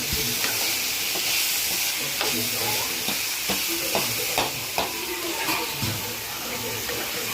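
Onions sauté in a pan for a bean stir-fry, giving a loud, dense, continuous sizzle with repeated stirring scrapes and taps close by.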